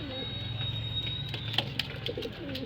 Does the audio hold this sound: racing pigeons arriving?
yes